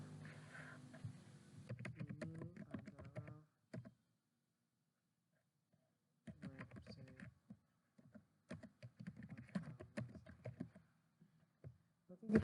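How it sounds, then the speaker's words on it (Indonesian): Typing HTML on a computer keyboard, bursts of quick clicking keystrokes separated by a pause of several seconds, close-up and fairly quiet, with a few soft spoken words mixed in. "Coba kita ketik di sini."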